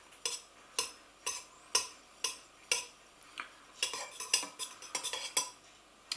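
Knife mixing water into pastry dough for Chorley cakes in a bowl, a steady series of sharp scraping clinks against the bowl, regular at first then quicker and more irregular, close and alone.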